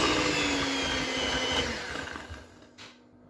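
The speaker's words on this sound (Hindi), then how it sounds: "तो इनको फिर आप दोबारा से अच्छी तरह ब्लेंड कर लेंगे।" Electric blender whirring steadily as it mixes cake rusk batter with food colour, a loud continuous motor drone that eases off and fades toward the end.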